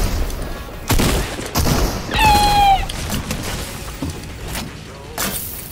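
Dragon's breath shotgun shots in a video game, several loud booming blasts spaced about a second apart, with a brief high whine between them and no clear talk.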